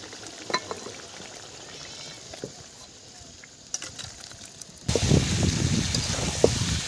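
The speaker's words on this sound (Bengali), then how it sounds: "এখন আমি এইভাবে কষতে থাকবো যতক্ষণ না সমস্ত মশলা গলে মাংসের সাথে মিশে যায়" Chicken (desi rooster) sautéed with masala in a pan for a village-style curry; soft stirring and scraping at first, then a louder, steady sizzle with clinks of the spatula in the last couple of seconds, close by.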